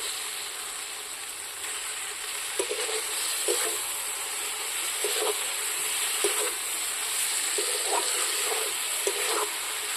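Rice grains sizzle and crackle as they are dry-fried with turmeric in a kadai, a steady bright hiss broken by repeated scraping stirs of a spatula at close range.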